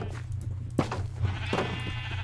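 Sheep in Minecraft bleat in a few short nasal calls over a steady low game background hum, with no speech.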